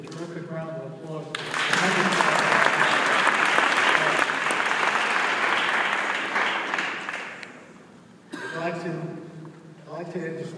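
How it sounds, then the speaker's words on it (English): An audience at a congressional tribute event on US-Israel security breaks into loud, sustained applause for about seven seconds that gradually fades, with someone speaking just before and again after it. "Once again, I think he deserves a terrific round of applause."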